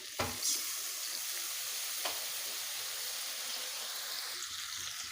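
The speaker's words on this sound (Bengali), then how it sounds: "পেঁপে আলু ভালোভাবে কষে নেওয়া হয়ে গেছে" Papaya and potato chunks sautéing in a pan, a steady soft sizzle with a couple of sharp clinks of a spoon stirring, fairly quiet and without talk.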